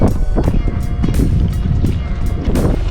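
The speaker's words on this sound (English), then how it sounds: "this wind is getting a little hard to paddle against." Strong wind buffets the microphone while paddleboarding on open water near an uninhabited island, a loud, steady low roar with gusty swells and faint water sloshing throughout.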